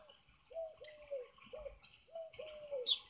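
Pigeons cooing at a bird feeder, a series of soft rhythmic low coos repeating close by, with light chirps in the background.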